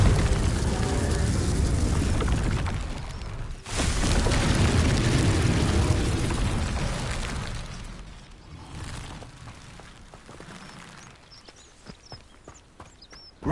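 A Confringo blasting spell in Hogwarts Legacy erupts in a loud, booming explosion that rumbles for several seconds, then fades into scattered lighter pops and crackles that trail off.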